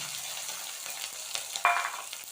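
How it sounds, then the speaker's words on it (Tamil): Green chillies and ginger added to urad dal frying in a pan, a quiet continuous sizzle with light crackles and one brief brighter hiss partway through. "ஒரு 3 பச்சை மிளகாய், ஒரு துண்டு இஞ்சி திருத்தி வச்சுருக்கேன், அதை இதோட சேர்க்குறேன்"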